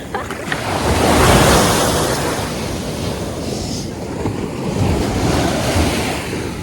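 Ocean surf rolling onto a beach in Goa, with loud, continuous wave wash that swells and recedes, backed by steady wind noise and no talking.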